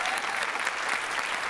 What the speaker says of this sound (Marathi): तेव्हा एकदा जोरदार टाळ्या स्त्री शक्तीसाठी झाल्या पाहिजेत.